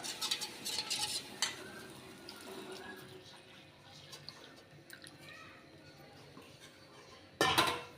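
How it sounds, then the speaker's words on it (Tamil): A spoon stirring flour batter into porridge in a pot on low heat. Scrapes and clinks come close and fairly loud at first, then settle into faint bubbling and stirring, ending in a sudden loud burst of scraping. "மாவு சேர்க்கும்போது அடுப்பை வந்து சிம்மில் வச்சுருங்க சிம்மில் வச்சுட்டே வந்து நல்லா கலந்து விடுங்க"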